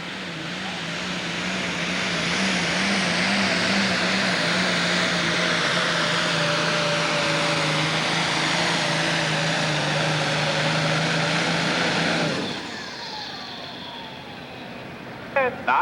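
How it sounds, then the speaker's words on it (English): A super stock pulling tractor's engine roars steadily at a tractor pull, its pitch slowly rising under load, then cuts off abruptly, leaving a quieter idle and faint background noise. "we got a rookie driver here on a super stock tractor"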